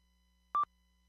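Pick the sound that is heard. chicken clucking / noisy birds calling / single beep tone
single beep tone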